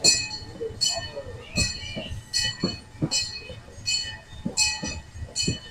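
A brand-new train passes at Irvine Park, its wheels clacking over rail joints in a steady repeating beat with faint metallic clinks, moderately loud at close range.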